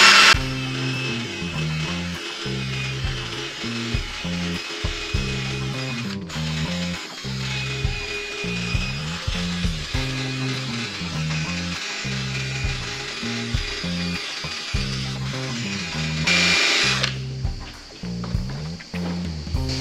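Drill spinning a cone-shaped polishing pad on a car headlight with an Arexons Thunder restoration kit, a steady close whine that pulses rhythmically as the pad is worked back and forth, dropping off near the end.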